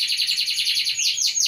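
Canary chirping in a breeding cage beside a female handling nesting cotton: a continuous, close, bright trilling song with rapid repeated notes and quick rising sweeps near the end.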